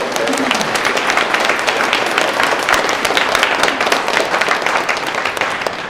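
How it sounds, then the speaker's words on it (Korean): A church congregation at Mass claps for the volunteers who run the fellowship meal service, a dense, steady wash of hand claps that fills the room for the whole stretch without a break. "먼저 봉사하신 분들이 박수 한번 칠까요?"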